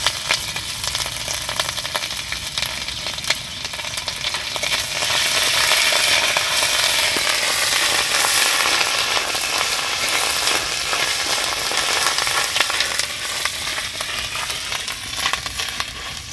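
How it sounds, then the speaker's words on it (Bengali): Ginger frying with roasted cumin in a pan for a sweet Odia dal offering gives a steady, dense, hissing sizzle that runs unbroken and fairly loud for the whole stretch, with faint scraping of stirring beneath and no voices. "জিরে ভাজা হয়ে গেছে আমার, এবার আদা দিয়ে সুন্দরভাবে ভাজা করে নিই।"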